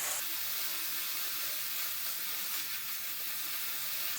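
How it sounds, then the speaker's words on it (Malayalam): Spiced masala for Kerala potato mezhukkupuratti sizzles steadily in hot oil while being stirred, a continuous close, bright hiss with no voices over it. "ഈ മസാല ഉണ്ടല്ലോ നന്നായിട്ട് എണ്ണ തെളിയുന്നിടം വരെ നമുക്കത് ഇളക്കി കൊടുക്കാം."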